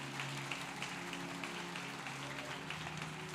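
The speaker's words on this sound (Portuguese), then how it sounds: "Você pode aplaudir" A church congregation applauds at an evening service, a steady wash of clapping from many hands throughout, with sustained tones from music or an organ underneath.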